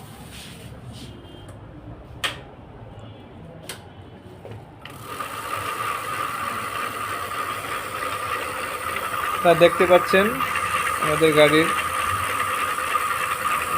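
A low electric motor on a folding electric bicycle whirs up and hums steadily after a few clicks, with a person speaking briefly over it and some higher mechanical tones.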